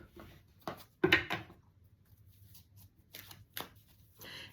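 A deck of tarot-style oracle cards is shuffled in a few short riffling bursts, close and crisp, separated by quiet pauses with faint handling noises and no speech.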